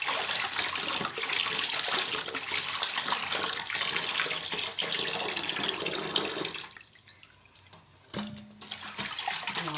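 Tilapia being rinsed by hand under a running kitchen tap: a steady, loud rush of water that stops near the end, followed by a brief splash and a short tonal squeak before the flow resumes.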